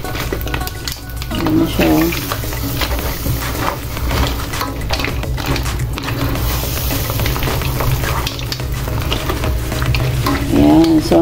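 Seafood simmers in a bubbling Cajun sauce while it is stirred, making a loud, continuous wet sizzle with spoon scrapes; a person speaks briefly at the beginning and again at the end.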